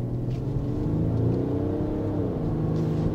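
A Genesis GV80 diesel AWD accelerates in sport mode, heard from inside the cabin as a steady, deep engine drone with a slowly rising tone, continuous and fairly loud, with no talking.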